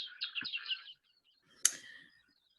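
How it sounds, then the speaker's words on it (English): A robin chick begs for food, giving a burst of rapid high chirps followed after a pause by a single sharp call, close and clear against silence. "Just stays with its mouth open all the time until the adult robin comes."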